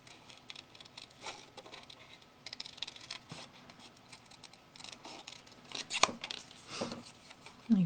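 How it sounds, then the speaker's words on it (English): Scissors fussy-cut a small paper bird out of a cardstock sheet, making soft, irregular snipping and paper rustles up close, faint overall, with a sharper snip near the end. "I'm just going to cut the little birdie out."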